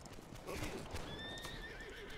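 Horses in the Holdfast video game, a faint whinny and hoof clatter behind a steady battlefield hiss, distant and soft with no one talking.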